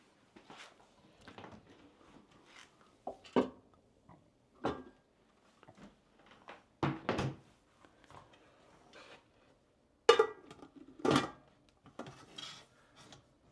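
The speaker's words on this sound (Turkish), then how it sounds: "Bunun kapağını kapatalım." A series of short metallic clicks, scrapes and rattles as a heavy pressure cooker lid is fitted and twisted shut, fairly close and irregular.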